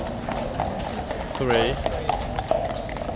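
Horses' hooves clip-clop on pavement in a busy tourist area with police nearby, several distinct steps with a brief whinny-like sound, while someone talks over the scene.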